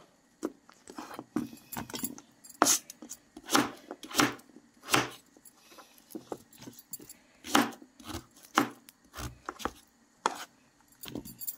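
Knife chopping sweet pumpkin into medium-sized pieces on a board, a steady run of sharp, close thuds at an uneven rhythm with no talking.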